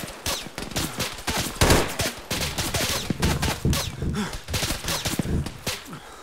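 ArmA 3 gunfire: dense, continuous bursts of rapid automatic shots and cracking rounds, loud and sustained throughout with no clear pause.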